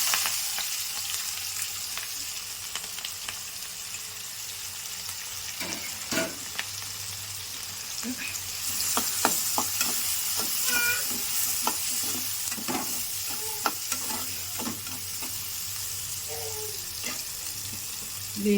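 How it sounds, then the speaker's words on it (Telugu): Sliced onions and turmeric fry in oil for chicken fry, giving a steady close sizzle with scattered clicks and scraping stir strokes that grow busier midway, with no one talking. "ఆయిల్లోనే కొంచెం పసుపు, 2 ఉల్లిపాయలు కోసుకున్నాం కదా, దాంట్లో వేసేయండి."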